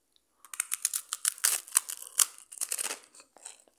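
Crisp, close crunches from tasting Serra Sul butter, a quick irregular run of sharp bites and chews that starts after a brief silence and tapers into softer crackles.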